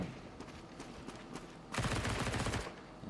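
Rapid automatic fire from an MP9 submachine gun in a first-person shooter game, a sustained burst of dense, crackling shots in the second half after scattered quieter gunfire, with no talk.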